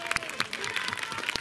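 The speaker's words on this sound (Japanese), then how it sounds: "拍手すごーい。" An audience claps in a dense burst of applause at an outdoor local mascot character festival in Kure, close and lively, with faint voices mixed in.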